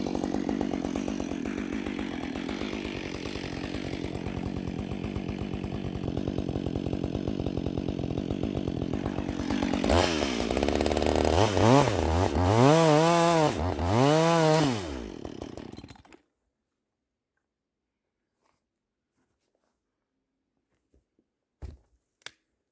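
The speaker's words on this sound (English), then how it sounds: "to hold it so my chainsaw doesn't get caught in there" Chainsaw cutting through a tree trunk on icy ground: a loud, close, steady buzzing drone that rises into several revving surges before cutting off, leaving near silence and a couple of faint clicks.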